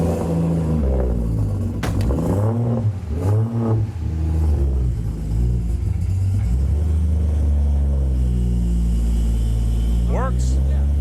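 A single-turbo BMW E92 335i starts up and revs, a steady deep engine drone rising and falling through several revs, loud and close, with people talking over it.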